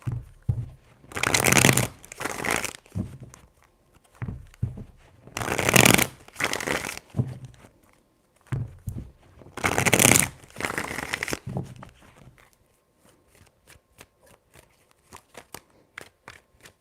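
Tarot cards shuffled in three separate bursts of rapid riffling and flicking, each about a second or two long with quiet gaps between, ending in a series of light taps, close and crisp.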